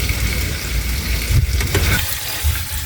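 Tomato and dried fish frying in a pan, a steady close sizzle with soft stirring scrapes, no talking.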